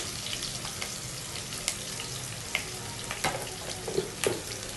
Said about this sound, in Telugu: కర్రీ లీవ్స్ యాడ్ చేసిన తర్వాత తాలింపు అంతా కూడా గోల్డ్ కలర్ వచ్చేంత వరకు ఫ్రై చేసుకోవాలండి.